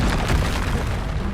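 Confringo explosive spell cast in Hogwarts Legacy, heard as a loud, close, heavy boom with a rumbling burst that fills the whole moment and decays only slightly.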